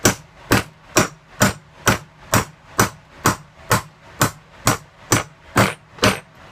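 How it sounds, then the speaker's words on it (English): Rhythmic hammer blows driving a coupler down while making a sprue extender, about thirteen sharp, evenly spaced strikes, close and loud, with no talking. "You take another coupler, you put that on there, you hammer it down."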